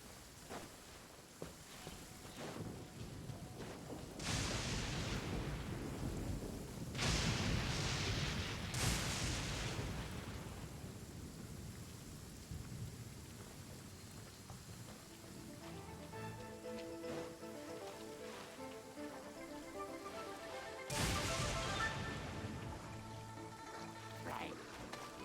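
Rolling booms of thunder from a close lightning storm, with several loud broad rumbles and cracks spread across the stretch and a final heavy burst near the end, among rain-like background noise and some talk.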